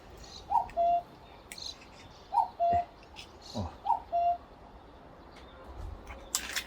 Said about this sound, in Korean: 뻐꾸기 소리가 예쁘게 나네요